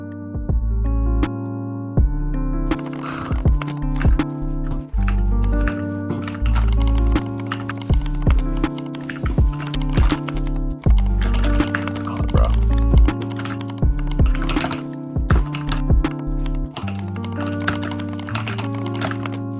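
Fast keystrokes on an Anne Pro 2 mechanical keyboard with Cherry MX Red switches clatter in rapid bursts and pauses, close and crisp, over a steady background of game sounds or music.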